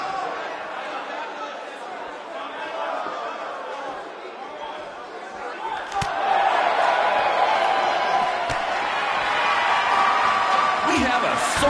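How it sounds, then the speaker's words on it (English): A sold-out arena crowd in the WWE 2K19 wrestling game roars and chatters in a continuous wash, swelling louder partway through, while a commentator talks over it. "We have a sold-out, record-setting crowd here for BCW tonight."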